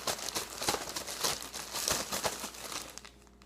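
Monkey bread dough pieces are shaken in a bag, giving a continuous close rustle and crinkle of plastic with uneven bursts of agitation that fade toward the end. No one talks.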